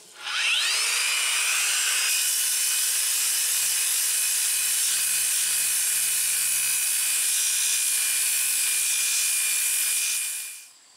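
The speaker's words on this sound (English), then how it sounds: "This is the first one of these rocks I've done all summer with the grinder outside here." An angle grinder fitted with a hard wheel grinds a unakite rock outdoors, a steady high whine with a bright abrasive hiss that spins up at the start, holds constant for about ten seconds, then cuts off.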